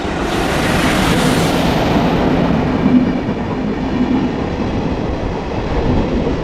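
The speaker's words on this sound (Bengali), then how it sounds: "আজকের দিনে এখানে এসে ট্রেন চলছে" A train runs through Begunkodar railway station in Purulia with a loud, continuous rumble and clatter of wagons close by, and no voices.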